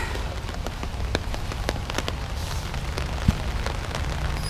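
Pouring rain drums steadily at a campsite at Southwick, a dense close patter of drops with scattered sharper taps on nearby surfaces and one brief louder knock.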